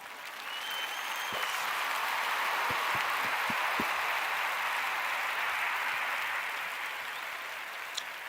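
A crowd claps and cheers in a broad, sustained burst of applause that swells, holds, and gradually tapers off, with a few sharp thumps near the start.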